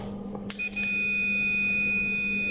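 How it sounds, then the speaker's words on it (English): A digital multimeter, switched on to test a thermal switch, gives a sharp click and then a steady high electronic beep that holds for about two seconds over a low hum. "First of all, I turn down multimeter."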